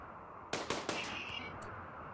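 Gunfire in RimWorld, a quick burst of three sharp shots close together followed by a fainter pop over a steady background hum.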